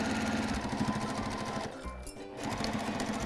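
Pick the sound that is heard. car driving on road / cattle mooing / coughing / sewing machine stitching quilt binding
sewing machine stitching quilt binding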